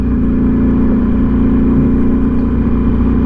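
Ducati V4S Speciale motorcycle engine running loud and steady, a deep continuous drone with a strong low throbbing pulse that holds at a constant pitch throughout.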